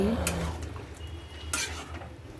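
Leafy greens stir-fry with salt, softly sizzling in a pan with a few scraping stirs of a utensil, fairly close and quiet, no voices.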